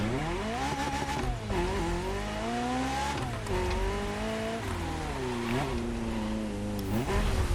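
In The Crew Motorfest racing game, an Alfa Romeo 33 Stradale engine revs and shifts repeatedly, a loud raspy tone rising and dropping through gears with no break.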